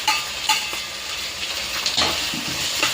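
Tomatoes and curry leaves fry in a hot pan with a steady close sizzle, broken by a few clinks and scrapes of a spoon stirring against the metal.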